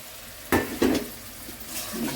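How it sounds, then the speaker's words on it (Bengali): Dried fish stir-fried in a pan for a bottle-gourd-shoot dish, with two sharp scraping strokes over a low background sizzle, then a softer scrape near the end. "শুটকিগুলো আর একটু কষিয়ে নিব"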